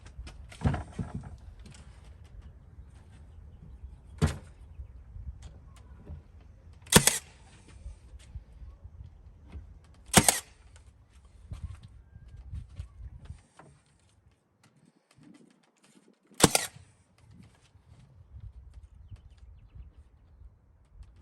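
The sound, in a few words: nail gun driving 1¼ inch nails into cabinet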